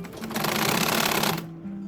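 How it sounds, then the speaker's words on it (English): A sewing machine stitches a jacket sleeve in a short, fast burst of buzzing, rattling needle strokes that runs close and steady, then stops abruptly, leaving a low hum. "I'm sewing it now."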